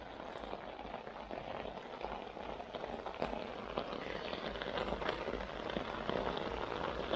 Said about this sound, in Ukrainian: конкретна злива, друзі, конкретно